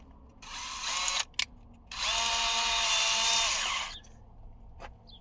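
Power drill with a screw bit driving screws into the third brake light of a 2020 Jeep Renegade Latitude, two loud close whirring bursts, a short one and then a longer sustained run that winds down.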